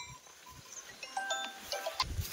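Kathiawadi goats bleat in a farm pen before dawn, several short nasal cries overlapping near the end, with low shuffling and faint background noise between calls.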